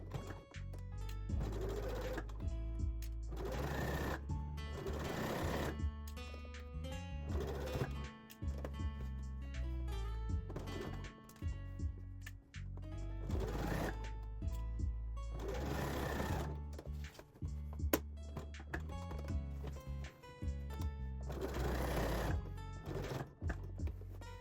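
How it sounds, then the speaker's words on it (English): Sewing machine running double straight stitches along a corset strap, repeated bursts of fast mechanical clatter of several seconds each, separated by short pauses, close and steady, with no talk over it. "Now back to the sewing machine, we're going to sew a stitch along here and along the top of the strap."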